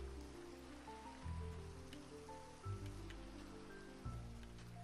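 Rain falling in the modded Minecraft game Pixelmon, a steady, even hiss that runs the whole time beneath low sustained tones, with no talking.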